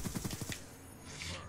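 Rapid automatic gunfire in Call of Duty: Black Ops 2, a quick burst of about six close shots in the first half second, then a fainter lingering rumble.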